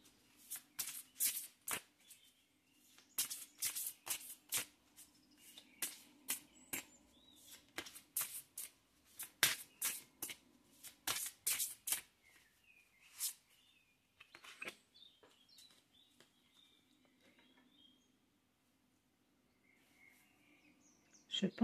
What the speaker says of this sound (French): Je pense que je vais tout tirer les cartes et qu'on les retournera ensuite.